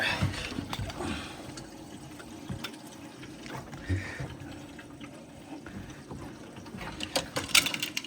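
A bathroom toilet flushes and refills, giving a steady, moderately quiet rush and trickle of water that runs the whole time with small splashy peaks.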